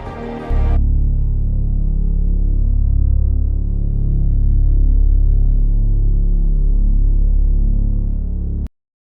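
A mysterious low, steady hum of unknown source, reported mostly in Canada, New Zealand and the United States, drones loudly and continuously with a faint throbbing texture and no voices, cutting off abruptly at the end.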